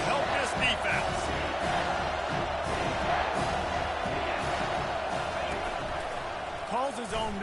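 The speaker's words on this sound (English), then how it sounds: "this crowd will blow out a vocal cord to help this defense" Home crowd at an American football stadium roars continuously on a third down, a dense, loud wall of cheering and yelling that never lets up, with a commentator's voice running underneath.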